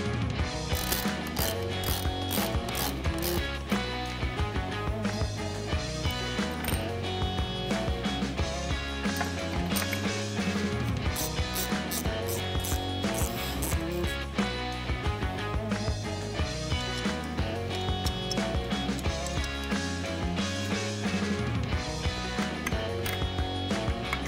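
A hand ratchet clicks rapidly and steadily, close up, in repeated bursts while bolting a 4-bolt to 3-bolt throttle body adapter onto an LS engine swapped into a 1968 Chevy C10 restomod truck.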